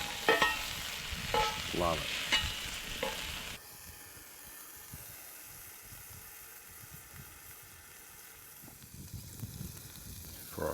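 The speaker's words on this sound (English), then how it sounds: "Just can't beat that sound, that sizzle sound." Burger patty sizzling and frying on a campfire at a bush campsite, a steady close crackling hiss with bursts of stirring and scraping early on; someone speaks briefly over it.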